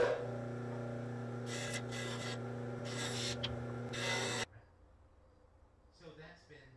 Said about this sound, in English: That's my first time using this disc sander with like a batch of baits